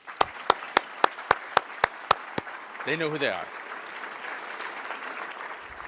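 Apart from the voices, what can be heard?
applause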